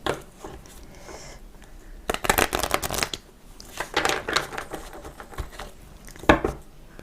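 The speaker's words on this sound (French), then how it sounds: "ça va que les cartes sont souples, je peux bien les mélanger" Flexible tarot cards are shuffled by hand in several brisk bursts of riffling and flapping, close and crisp, separated by quieter handling between shuffles.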